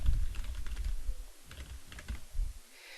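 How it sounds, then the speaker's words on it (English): A computer keyboard typed on steadily with quick, close clattering keystrokes in uneven bursts over a low background rumble. There is no talking. "let me type this out, hold on just a second."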